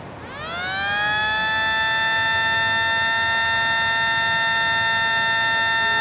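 A small USB-powered model civil defense siren from a Los Angeles series spins up quickly into a steady, close multi-tone wail that holds level and loud throughout, with no talking.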